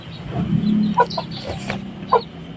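Silkie chicken chicks give a few short, soft calls at close range over a low background murmur.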